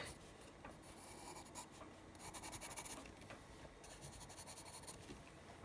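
Hard charcoal pencil scratching across paper in a drawing, steady close rasping strokes with a brief harder burst in the middle, faint and alone with no talk.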